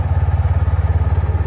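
A sport motorcycle engine idles after a cold start, a close, steady low throbbing with even rhythmic pulses and a faint clattery rattle on top.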